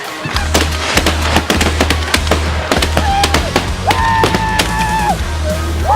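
Shotgun blasts fired at geese ring out in a rapid string of sharp, loud reports over a field, with a low rumble underneath and some goose calls mixed in.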